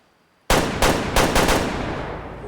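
Loud gunshots from a rifle in the hunting game Way of the Hunter: a sudden blast after silence, followed by three or four more sharp reports in quick succession, each ringing out with a long echoing tail.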